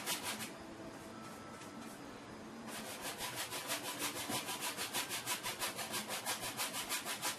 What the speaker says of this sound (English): With light strokes, just to remove excess painting and to fade and match the colors.